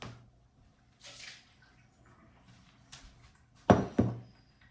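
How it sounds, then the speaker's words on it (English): Water from squeezed shredded zucchini is dumped out in a kitchen, two short splashy pours near the end after a few faint handling noises, no talking. "So I'm just going to set that to the side and dump the water."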